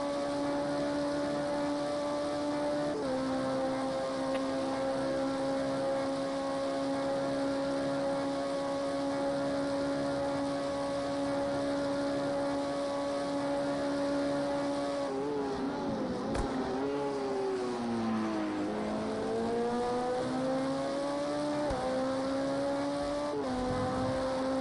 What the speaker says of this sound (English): let you enjoy the roar of that engine in the back of the LMP car